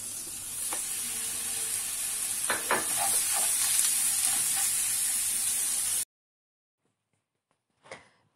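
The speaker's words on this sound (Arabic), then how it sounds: "خديت هنايا مقلاره درتها كتسخن، غادي ندير فيها واحد طريف صغير ديال الزبده." Kefta frying in butter in a pan makes a steady close sizzle with a few stirring knocks for about six seconds, then near silence with a faint clatter.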